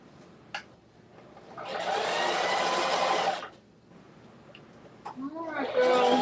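A sewing machine runs in one steady burst of about two seconds while stitching pom-pom fringe, close and fairly loud, with chatty voices before and after.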